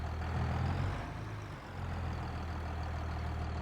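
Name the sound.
tractor engine idling in a farming video game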